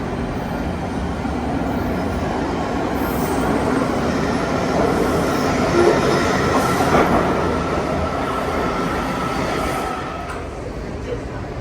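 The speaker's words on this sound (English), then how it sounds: "And here's our train." A Washington DC metro train rumbles steadily nearby, its broadband roar swelling and easing as it pulls in, with a faint voice somewhere beneath the noise.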